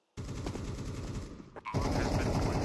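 Rapid automatic gunfire from Counter-Strike 2 erupts after a brief silence, stutters and cuts out briefly, then resumes as a loud, sustained burst of close shots.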